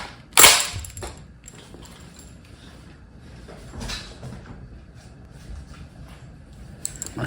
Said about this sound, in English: This one is one of the Rebel single shot bows.